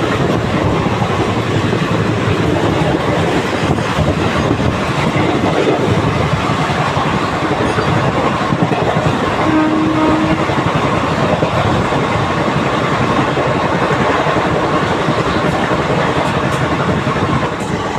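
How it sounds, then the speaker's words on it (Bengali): Wheels of the Puri–Shalimar Garib Rath express clatter over the rails in a loud, continuous rumble heard from inside the moving train, with rhythmic clicks of track joints. "ট্র্যাক সাউন্ড এনজয় করো"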